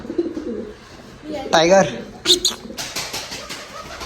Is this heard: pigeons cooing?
yes